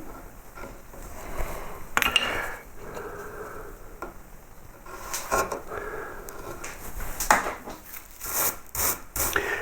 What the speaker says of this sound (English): at the end of this bit here, you can just sort of stop it off with a skew chisel